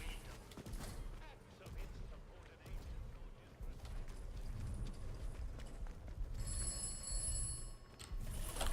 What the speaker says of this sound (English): Oh, the telephone's ringing again.